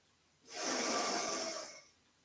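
A single slow, deep inhale during a yoga exercise lying on the back, a close, breathy hiss that swells and holds for over a second before easing away.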